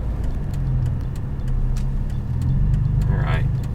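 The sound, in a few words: BMW E46 M3 with SMG gearbox coming to a stop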